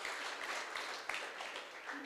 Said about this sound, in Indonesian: sekali lagi tepuk tangan buat Tuhan Yesus.